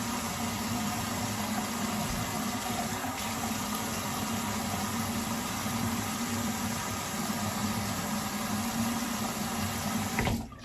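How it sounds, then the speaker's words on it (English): A bathroom tap runs steadily during a straight-razor shave, giving a constant broadband water rush with a low motor-like hum beneath, unbroken and fairly close, with no talking. "Sorry about the water on."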